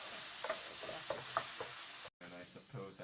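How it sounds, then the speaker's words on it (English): Vegan japchae made with potato-based noodles is stirred and mixed in a pan. Soft scraping and tossing sounds sit over a quiet, steady sizzle, broken by a very short gap. "I suppose I just kind of mix it around"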